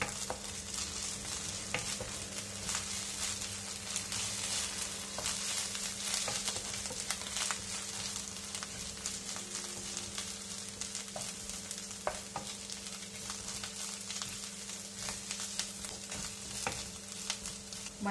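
Onions with ginger garlic paste sautéing in oil in a pan for soya chunks curry, a steady soft sizzle with faint scraping stirs throughout, fairly quiet and without talk.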